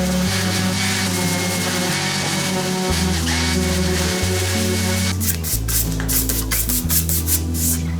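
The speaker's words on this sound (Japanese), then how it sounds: "60番ぐらいの布やすり使いたいと思います。" Coarse 60-grit cloth sandpaper rubs back and forth over a small wooden board in long, loud, rhythmic strokes that turn into faster, shorter scrubbing near the end, with no talking.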